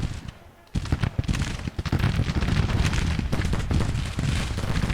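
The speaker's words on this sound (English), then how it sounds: "The US Marine Corps is still firing on to the 7th Virginia." Marines' rifle fire in Grand Tactician: The Civil War, a dense crackle of many shots layered into a loud, steady fusillade after a brief quiet opening.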